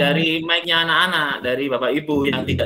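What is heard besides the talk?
No distinct noise like a dog, phone or traffic.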